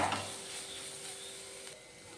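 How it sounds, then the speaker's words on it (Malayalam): Pork curry masala with turmeric and meat masala sautéing in a pan gives a steady, soft sizzle with light stirring, fairly faint and without talking. "ഇനി ഇത് നന്നായിട്ടൊന്ന് വഴറ്റിയെടുക്കാം"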